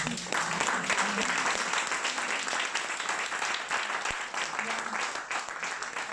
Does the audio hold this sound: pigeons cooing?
no